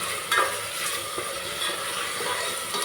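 Tomatoes being sautéed in oil for tomato rice, a continuous close hiss of frying with faint stirring scrapes and no voices.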